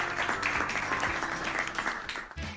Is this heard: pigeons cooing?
no